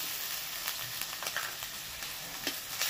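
Catla fish head with a whole tomato sautéing in a pan for a cauliflower and potato curry, giving a steady close sizzle with light stirring scrapes and small pops.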